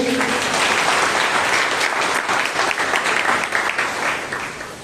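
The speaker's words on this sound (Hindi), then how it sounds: "परमेश्वर को जोरदार तालियां देंगे." A congregation at a Hindi-speaking Grace Ministries church service breaks into loud, enthusiastic applause, a thick continuous clatter of hands that tapers slightly near the close.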